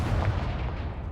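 A Confringo fire blast spell cast in Hogwarts Legacy, a deep booming burst with a rumbling low-end tail, loud and close, lasting about a second with no talking.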